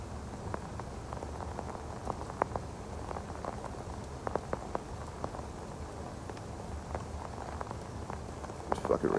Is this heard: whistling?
no